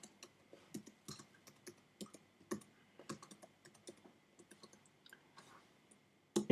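Keystrokes on a computer keyboard while a search term is entered, a quiet irregular run of separate clicks and taps for several seconds, close by, ending in a slightly louder burst of key presses.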